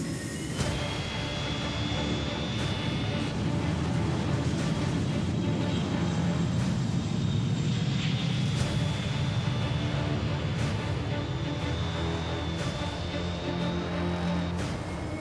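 A steady roar of jet engines from an airplane taking off, continuous and fairly loud, with a faint high whine running through it; no speech.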